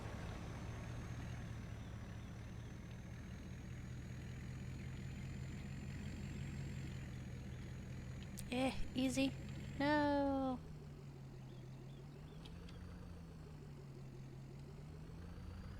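A truck engine idles with a steady low rumble in Farming Simulator 22, its pitch shifting near the end after a short burst of mechanical clatter. A voice talks briefly over it.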